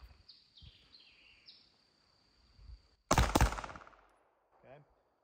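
Single loud gunshot on an outdoor shooting range with a 300-foot berm, a sharp close crack followed by a decaying rumble; faint birdsong chirps before and after it, with no talk.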